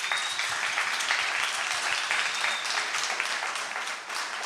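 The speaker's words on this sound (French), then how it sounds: "On peut l'applaudir." Steady audience applause fills a francophone community gathering honoring a newspaper's longtime leader, dense and continuous from start to finish with many hands clapping at once, fairly close and even in loudness.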